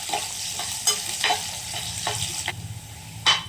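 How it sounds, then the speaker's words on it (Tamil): Small red shallots sauté in a pan while being stirred, for a masala chicken dish: a steady close sizzle with scraping spatula strokes that come in short bursts, and no talking. "கொஞ்சம் சின்ன வெங்காயம் கத்தரி போட்டு, சின்ன வெங்காயம் போட்டு கொஞ்சம் நல்லா சோப்பாக வர வரைக்கும் நல்லா வதக்கிக்கணும்"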